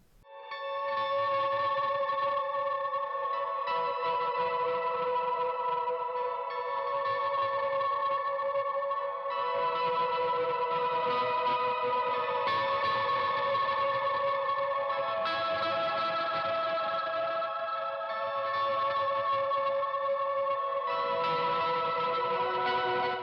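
Electric guitar notes swell in slowly and hang in a long wash of reverb and echoing delay, layered chords blurring together continuously.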